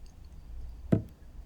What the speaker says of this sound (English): So here you can see me just hammering them out.